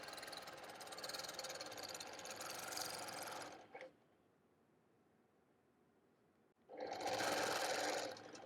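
A sewing machine stitching a guitar-themed quilt runs in two loud, steady bursts, about three and a half seconds and then two seconds, with a near-silent pause between them.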